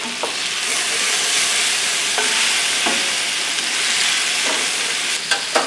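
Steak fajitas sizzle loudly in a hot pan while being stirred, a steady crackling hiss broken by a few scraping and clinking touches of a utensil, with no voices.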